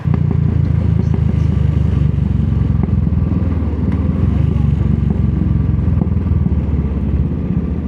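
A Triumph motorcycle engine, loud and close, holds a steady throbbing idle that rises in brief revs, with a constant low rumble and faint mechanical clatter throughout.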